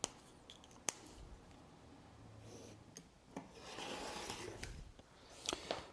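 Leather pieces with reinforcing tape being cut to a pattern for a clutch bag, close scraping and rubbing strokes with a few sharp clicks and irregular bursts of cutting, no voices.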